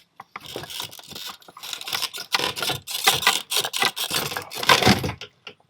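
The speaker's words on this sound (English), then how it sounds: "I'm gonna get needle nose pliers for this connection to take it off" Needle nose pliers work a connector loose on a BMW 335i, with close metallic clicks, scrapes and rattling plastic in irregular bursts.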